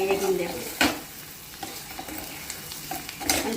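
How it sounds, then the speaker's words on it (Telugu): Bitter gourd and onion frying in a pan, a steady close sizzle with scraping stirring strokes and a few sharper clicks of the spatula. "కాకరకాయ ఉల్లిపాయ అంతా ఎర్రగా వేగింది"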